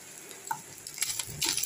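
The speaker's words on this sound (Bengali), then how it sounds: "মৌরলা মাছগুলো ভাজছি।" Small mola fish frying crisp in a pan, a close, soft sizzle joined by a few stirring scrapes and clinks that grow louder toward the end.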